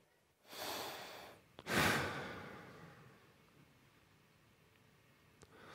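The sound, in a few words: speaker imitating the sound of breathing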